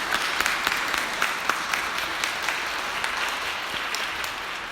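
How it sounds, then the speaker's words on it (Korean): A church congregation applauds together at a Sunday service, producing dense, steady clapping that carries evenly for several seconds with no voices over it. "다시 한번 우리 박수로 격려하겠습니다"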